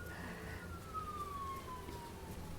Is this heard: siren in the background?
yes